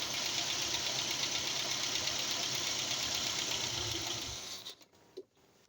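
A 1986 Dodge Daytona engine, freshly fitted with a replacement cylinder head, runs at a steady idle with an even mechanical clatter for several seconds before abruptly shutting off, leaving a brief thump and quiet.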